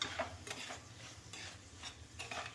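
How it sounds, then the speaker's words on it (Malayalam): Cucumber and mango curry is stirred in a pan: quiet, repeated scraping strokes at a steady rhythm with a soft sizzle underneath, close and alone. "ഈ മാങ്ങയും കൂടെ ഇട്ട് നല്ലതുപോലെ ഒന്ന് ഇളക്കാം"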